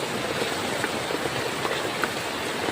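Rain falls steadily, giving an even, close hiss of drops that stays at a constant level throughout.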